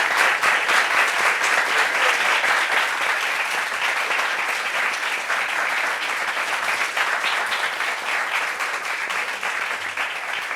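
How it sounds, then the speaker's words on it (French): A studio audience on a French daily talk-show set applauds the fourth guest, steady dense clapping filling the whole stretch at close range, loud and even with only slight easing toward the end. "qu'on applaudit pour lui"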